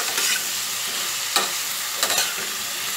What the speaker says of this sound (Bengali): ভালো করে নেড়ে মিশিয়ে নিয়েছি